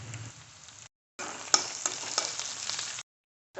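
Garlic and chilies sauté in hot oil for a drumstick leaf stir-fry, a steady close sizzle that cuts out briefly and returns with small crackling pops, no talking.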